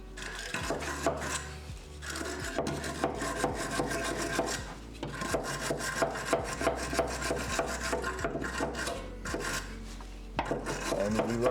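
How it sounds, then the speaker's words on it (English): Rust being brushed off a Datsun chassis rail, a dense, continuous rasping scrub with rapid repeated strokes, close and steady with a few brief pauses. "So let's try to just brush the rust away a touch."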